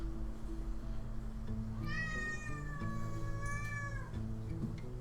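Despy, a pet cat, gives a single long drawn-out meow that rises and wavers for about two seconds, close and clear over a low steady hum of background music.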